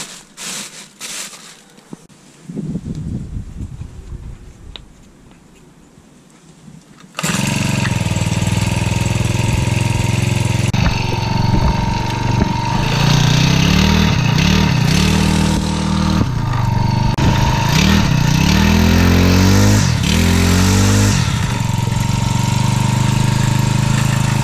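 Honda GX22 brushcutter engine, just fitted with a new spark plug, starts after a few quieter seconds and then runs loud and steady up close, with repeated rising revs and throttle blips.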